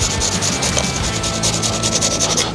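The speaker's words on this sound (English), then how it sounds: "we're going to grate this garlic straight into that pot" Garlic cloves grated straight into a pot, a close, continuous raspy scraping with a quick repeating rhythm of strokes, heard alone with no talking.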